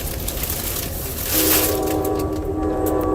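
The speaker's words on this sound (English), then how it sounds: "I'm really happy that the train is finally moving now" A train rolls along its rails with a steady broadband rumble and clatter, swelling louder midway through and then holding a constant roar of rail noise; no one speaks.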